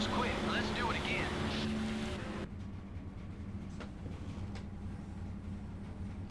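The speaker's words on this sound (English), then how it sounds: "That's my dryer making all that noise." A household clothes dryer drones with a steady low rumble and rattle. A voice talks over it for the first couple of seconds, then the machine carries on alone as a constant mechanical hum.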